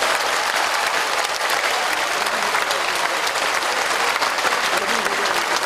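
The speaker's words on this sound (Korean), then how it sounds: "다시 한번 큰 박수 부탁드릴게요" Festival crowd applauds after a folk dance troupe's performance at an outdoor evening event, a loud, dense and continuous roar of clapping with no talk over it.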